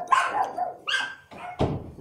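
Several dogs bark in quick succession nearby, sharp loud barks with short pauses, the last one heavier and deeper.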